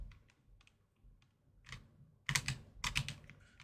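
Computer keyboard keys typed during a Fortnite game on keyboard and mouse, a run of quiet scattered taps that grows into louder, denser clattering bursts toward the end, close and without talk.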